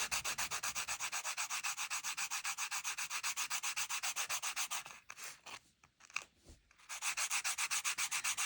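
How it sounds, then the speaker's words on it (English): Hammered wire for a lightning bolt paddle charm is lightly sanded with quick, rhythmic back-and-forth strokes, close and steady, pausing briefly with a few handling noises before the rubbing resumes. "Just gonna lightly sand it."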